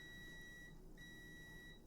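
A faint electronic beeping alarm sounds as steady high-pitched tones, cutting out briefly in the middle and then resuming, under a quiet room background with no speech.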